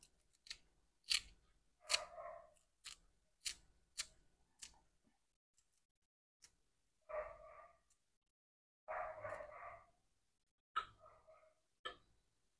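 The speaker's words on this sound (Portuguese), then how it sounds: "Cortar com a tesoura, ó." Kitchen scissors snipping vegetables for a mayonnaise salad, a series of sharp crisp cuts at an irregular pace, close and alone with quiet gaps between them.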